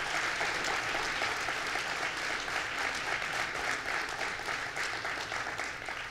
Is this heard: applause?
yes